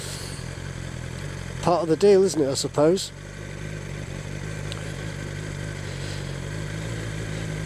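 A 2022 BMW S1000XR with a 1000cc engine hums steadily in the background, a constant mid-range drone beneath someone speaking briefly near the start.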